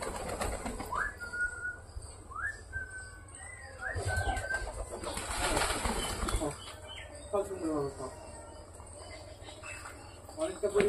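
Geribaz pigeons being fed give off a mix of fluttering wingbeats, short chirping calls and soft cooing nearby. The bursts of flapping rise and fall over a faint background.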